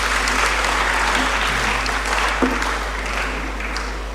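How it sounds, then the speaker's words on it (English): Sustained audience applause fills a hall during an inaugural lecture, dense steady clapping from many people at moderate loudness, tapering slightly toward the end with no talk over it. "I think at this point I would ask the applause to be on hold."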